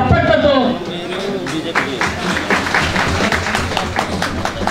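An audience at a cultural gathering breaks into applause to pass a resolution. Claps rise after a voice and carry on steadily, mixed with crowd noise.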